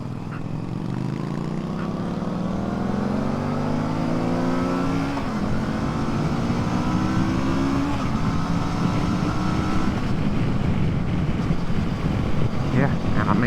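A Kawasaki Versys 650 motorcycle is ridden on the road, its engine note rising and shifting through gears under heavy, constant wind buffeting roar, with a rider talking over the noise.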